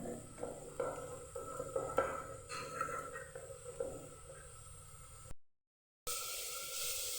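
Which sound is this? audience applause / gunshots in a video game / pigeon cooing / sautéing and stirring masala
sautéing and stirring masala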